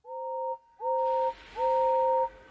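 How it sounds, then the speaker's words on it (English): Three sustained two-tone steam engine whistle blasts, each rising in loudness and held steady, with a rumbling background joining after the first. "Far away, but getting louder and louder, was the sound of an engine's whistle."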